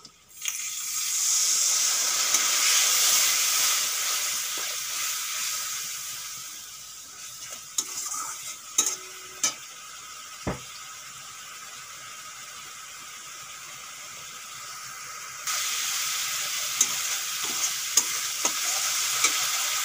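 Water poured onto spice masala frying in a pan for a moong dal fritter curry sets off a loud hiss that fades to a steady softer sizzle, punctuated by a few spoon clinks and stirring scrapes, then swells again.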